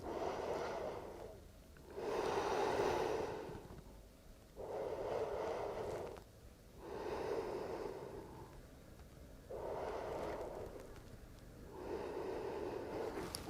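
Deep, slow breaths during a pilates exercise, with about six long, audible inhale and exhale cycles, soft airy, and close to the microphone with no talking.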